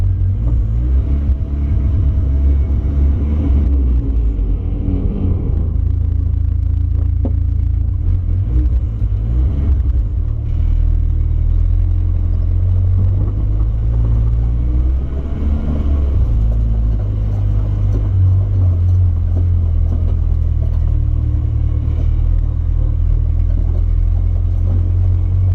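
Project D20 car on its first start and drive, engine rumbling low and steady throughout with a deep booming drone that shifts pitch slightly as it moves, loud and close from inside the vehicle.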